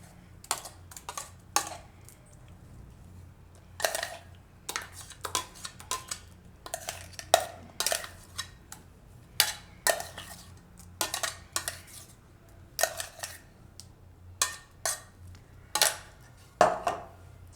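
A spoon transfers a green pea mixture into a mixing bowl for pea puris, giving many sharp scrapes and taps at an irregular pace, close and fairly quiet, with no talking.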